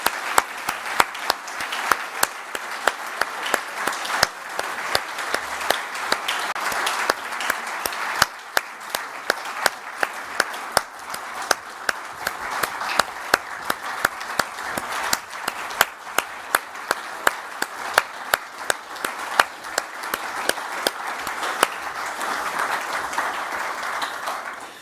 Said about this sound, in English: I think we should give all of them a big round of applause and recognize them.